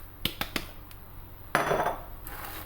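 Crushed biscuits are stirred into a chilled fruit dessert mixture in a bowl: three quick metallic clinks, then a longer close scraping stir.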